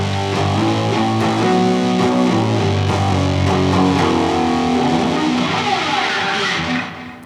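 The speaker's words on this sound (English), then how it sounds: "It's a distortion pedal." Electric guitar played through a Walrus Audio Aris distortion pedal, a loud, thick, sustained distorted tone with chords and notes ringing continuously for about seven seconds before cutting off abruptly at the end.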